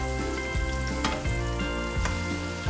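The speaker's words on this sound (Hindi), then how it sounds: "अब मैं इसमें अपनी सब्जियां डाल दूंगी सब" Vegetables such as fenugreek leaves tipped into a pan with softened tomatoes for aloo methi soya, frying with a loud continuous sizzle and intermittent stirring scrapes, close and without voices.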